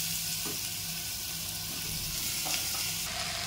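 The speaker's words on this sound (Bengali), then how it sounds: "ফোড়নটা ঠিকঠাক হয়ে গেছে, লাউ অ্যাড করলাম।" Bottle gourd sizzles in hot oil with cumin tempering inside a pressure cooker, a steady close frying hiss with a few soft clicks and stirring knocks, no voices.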